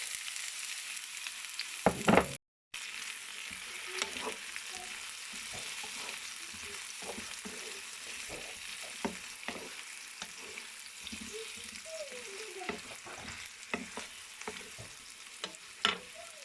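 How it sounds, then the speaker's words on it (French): Onion and sweet potato frying in a blend of sunflower and olive oil: a loud splash as they hit the pan, then a continuous soft crackle and sizzle with scattered pops and occasional stirring scrapes. "je verse l'oignon et la patate douce"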